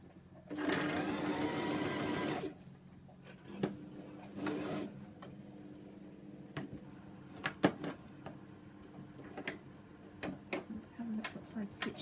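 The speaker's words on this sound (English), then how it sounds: "Let me try on a bit of spare fabric first, just to make sure my sewing machine is okay." A sewing machine whirs in a steady two-second burst of stitching on spare fabric, then scattered clicks and knocks follow with faint handling noises.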